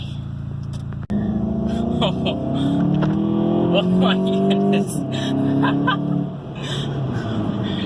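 A turbocharged 2016 VW Golf GTI accelerates hard from inside the cabin, engine note rising steadily through the revs with a brief gear-change dip, loud and close, while occupants exclaim over it.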